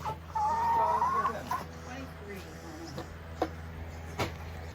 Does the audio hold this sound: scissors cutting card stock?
no